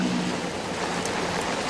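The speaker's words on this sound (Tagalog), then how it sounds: "Magdamag bumayo ang malakas na ulan at bugso ng hangin dito sa Baguio City." Heavy rain pours steadily and loudly in Baguio City, a dense, continuous wash of drops with gusting wind and no voices.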